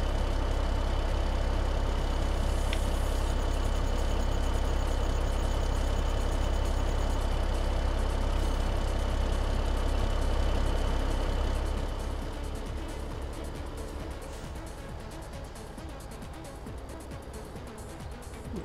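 Tractor engine idling in the video game Farming Simulator 17, a steady low rumble that runs loud and continuous before easing to a quieter idle near the end.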